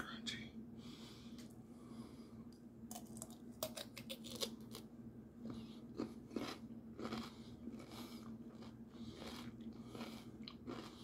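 Close, crisp crunching bites into a pickle and wet chewing, repeated several times with pauses, over a faint steady hum.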